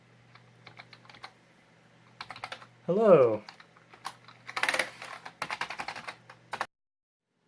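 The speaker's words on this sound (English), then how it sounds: "Let's try typing hello." Clicky keystrokes tap out in short bursts on a nearby computer keyboard, with a voice briefly speaking partway through.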